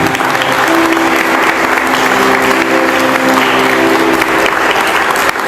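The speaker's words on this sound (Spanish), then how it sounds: "Den un fuerte aplauso, Señor." A church congregation applauding, loud sustained clapping from a large crowd with a faint tonal hum underneath, steady for several seconds.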